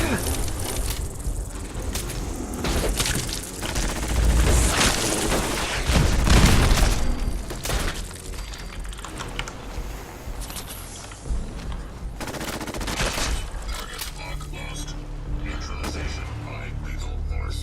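A robot companion's ranged weapon in Fallout 4 Automatron fires in repeated heavy volleys with booming bursts. The loudest stretch comes midway, with lighter bursts later, and someone talks over parts of it.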